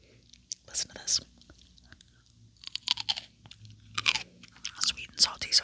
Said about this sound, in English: Listen to this crunch, it's so good.